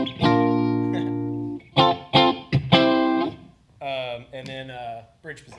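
A Doubleday Starling electric guitar, second pickup position, runs straight into a clean amp, strummed chords and short stabs with gaps between phrases, a slightly glassy, quacky tone played up close.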